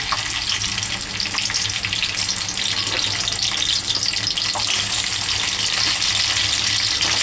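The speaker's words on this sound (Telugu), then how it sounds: "కొంచెం హీట్ ఎక్కిన తర్వాత చాప్ చేసి పెట్టుకున్న ఆనియన్స్, పచ్చిమిర్చి వేసేసుకుందాం." Chopped onions and green chillies fry in hot oil alongside cloves, cardamom and cinnamon for an Andhra spicy chicken fry, giving a loud, steady, close sizzle that runs unbroken with no talking.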